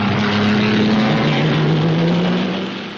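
Grand Prix racing cars, a Ferrari and a Maserati, roaring past in a loud, continuous engine drone with a steady pitch that fades slightly at the end, with no talking.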